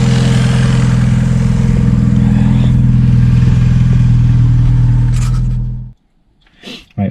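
A Fiat Seicento Sporting engine idles steadily after its cam timing was fixed, a close, even mechanical hum that cuts off abruptly near the end, followed by brief clattering handling noises.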